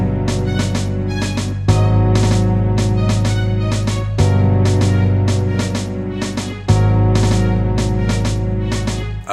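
Hip hop beat with a string ensemble playing a chord progression over steady drums; loud and continuous, chords changing about every two and a half seconds, no voices.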